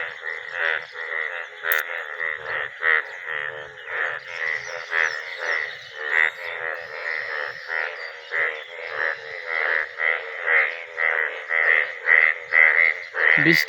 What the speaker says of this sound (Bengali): ব্যাঙে ডাকাডাকি করতেছে